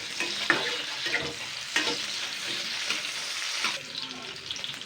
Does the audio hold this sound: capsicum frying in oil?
yes